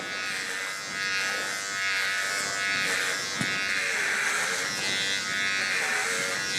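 A VGR V-082 electric hair trimmer cuts hair with a continuous, close, bright motor buzz whose pitch wavers slightly as it moves through the hair, with one brief click partway through.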